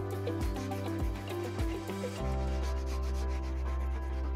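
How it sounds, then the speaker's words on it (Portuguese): Edges of a rustic wooden coffee table are smoothed with a file and sandpaper, giving repeated rhythmic rasping strokes that then settle into a steadier rubbing under a constant low hum. "Suavize as bordas com lima e lixa,"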